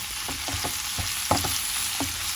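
Alexandrian sausage sizzles steadily in a frying pan as spices go in, with a spoon scraping and stirring in several short strokes up close.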